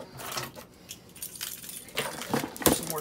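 Key used to cut open a FedEx shipping box: scattered clicks, light metallic jingles and scraping of cardboard in short uneven bursts, close by and fairly quiet.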